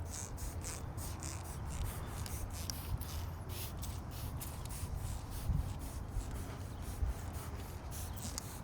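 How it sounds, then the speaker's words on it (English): Citrus pre-wash misted from a hand pump sprayer onto a car, a steady, continuous hissing spray close by, running unbroken for several seconds with small shifts in intensity. "A lot of spraying action."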